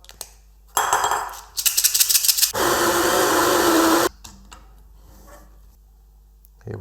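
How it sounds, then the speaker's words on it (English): While espresso is prepared, a small spray bottle gives a few quick rattling pumps, then one long, steady hiss of water mist. Both are close and clear, and quiet clicks follow. "A little spray of water."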